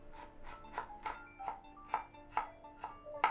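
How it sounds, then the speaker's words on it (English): Ginger being minced with a knife on a cutting board for stuffed bitter melons, giving about eight fairly soft, evenly spaced chops, close by and alone, with a faint steady hum beneath. "And mince some ginger."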